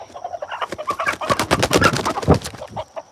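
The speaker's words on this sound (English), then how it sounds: "Oh yeah, these are Australorps." Australorp chickens cluck and squawk close by, a busy overlapping chorus of agitated calls with no clear pauses.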